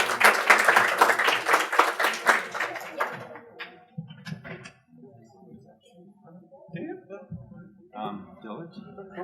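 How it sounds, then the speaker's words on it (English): Round of applause at a City of Brawley council meeting, dense clapping for the first few seconds that quickly fades into scattered claps, shuffling and murmured voices. "Let's give a big round of applause, everybody."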